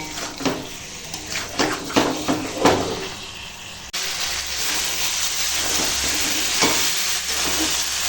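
Mutton is fried (kosha) in a pan, first with scraping stirs and clanks over a sizzle, then a louder, continuous hissing fry that fills the rest, close and without talk.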